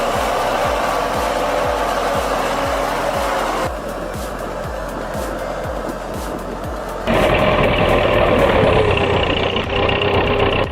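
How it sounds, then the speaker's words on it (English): A heavy articulated truck on an 888 chassis, fully loaded, grinds through icy slurry, its engine roaring loud and close with a rhythmic knocking churn that drops briefly, then surges back harder. "just plowing through that icy slurry with a full load"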